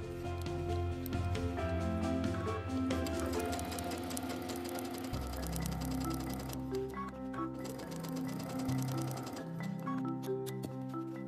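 A domestic sewing machine stitches a pinned inner border strip to a quilt border piece, running steadily with a dense mechanical whir and needle clatter, changing pace briefly midway and carrying on without talk.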